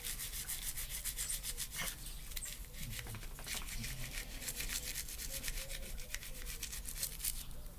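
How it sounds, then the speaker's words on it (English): A knife is scrubbed clean with Dawn dish soap, a continuous close-up rubbing and scratching with quick bristly strokes that goes on throughout. "Scrub it down, give it a nice thorough bath."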